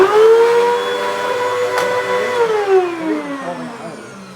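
Two compact upright vacuum cleaners, a Bissell PowerTrak and a Hoover WindTunnel with a 12-amp motor, run loud and close, a steady high motor whine with a pitch that dips and shifts as the machine works.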